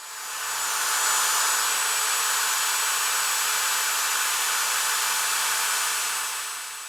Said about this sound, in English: get a drill on there in the dead center of it, and we can start removing this bolt that won't come out